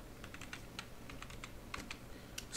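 Someone types commands on a computer keyboard, a quick close series of light key clicks in irregular bursts over a faint steady hum, ending with a slightly louder keystroke.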